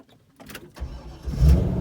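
A Chevrolet C5 Corvette fitted with Corbeau Evo X seats starts up after a quiet moment: a short crank catches into a deep, close engine rumble that swells louder near the end.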